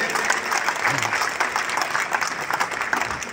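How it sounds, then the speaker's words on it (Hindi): An audience at a festival poetry evening in Alwar claps for the poets, a continuous, moderately loud patter of many hands with faint crowd murmur beneath. "एक बार फिर आकाश भरी तालियां हमारे कवियों के लिए मिले।"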